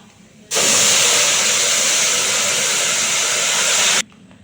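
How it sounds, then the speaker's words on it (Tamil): Water poured into a hot pan while cooking beef curry: a loud, steady hissing rush of steam erupts suddenly, holds for about three and a half seconds, then cuts off abruptly. "தண்ணி எடுத்து ஊற்றணும். ஊற்றும் போது ரொம்ப கேர்ஃபுல்லாக ஊற்றணும்."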